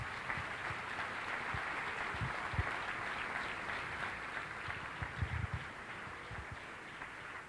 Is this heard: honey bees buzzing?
no